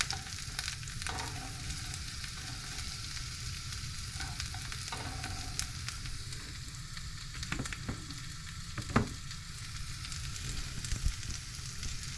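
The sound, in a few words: frying broccoli leaf and chilies on RV stove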